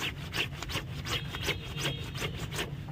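A shirt collar is scrubbed by hand in washing-powder suds, no brush, giving a close rhythmic rubbing rasp of fabric on fabric, about three strokes a second, steady and alone.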